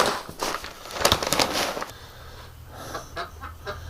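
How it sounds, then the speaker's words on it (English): Agitated duck quacks and squawks come in quick bursts close by, then settle into scattered calls over a low hum. "Some upset ducks this year."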